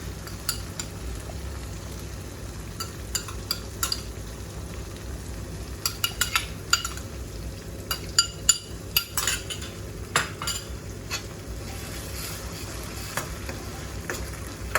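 Ginger garlic paste sizzling with softened tomatoes in a pan for chicken karahi, a steady low fry broken by scattered clinks and scrapes of a stirring utensil, with no talking.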